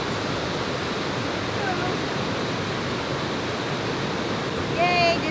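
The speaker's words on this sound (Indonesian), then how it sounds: "jadi aku udah sampai di air terjunnya" Steady rushing roar of the Blue Lagoon waterfall in Buleleng, Bali, a constant broadband wash of falling water, with faint chirps and a brief voice near the end.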